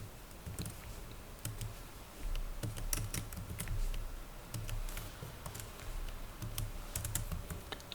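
Steady typing on a computer keyboard as an SQL query is entered, a continuous run of close, light key clicks with occasional heavier strokes and no talking.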